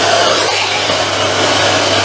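A hoover runs at a constant, loud roar while cleaning a car interior, a dense steady whoosh with a low motor hum underneath and no pauses.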